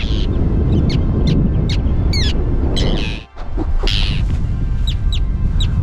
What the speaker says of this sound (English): Well, I guess there's more angry birds here. They don't like that I'm taking pictures.